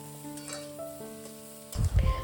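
Cauliflower cooking in a pan with a little oil, a soft steady sizzle that jumps into louder, bubbling spatter near the end, close up with no voices.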